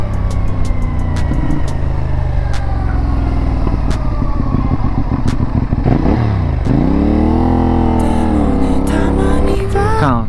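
A CFMoto 450NK street motorcycle on a test ride, its engine droning loud and close, with gear changes and revs rising and falling while it rides along, then settling toward idle.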